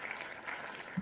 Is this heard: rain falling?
no